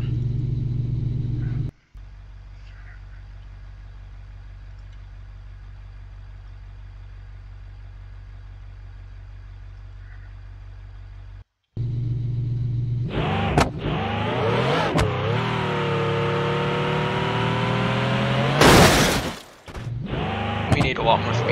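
A custom ultra car idles in BeamNG.drive with a steady low hum, then after a short gap the engine revs up and down in rising, falling sweeps, loud and close, ending in a sharp high burst.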